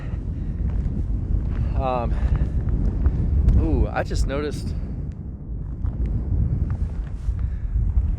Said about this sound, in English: It is very windy outside right now.